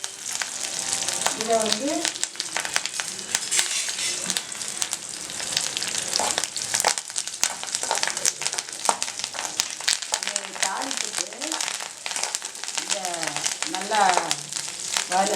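Dried red chillies and curry leaves crackle and sizzle in hot oil for a sambar tempering, a steady bright hiss with popping bursts throughout while a voice speaks briefly.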